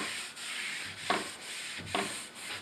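Cloth rubbing sealer finish into rough old pallet wood for a mirror frame, a steady close scrubbing hiss with two brief louder strokes, no talk.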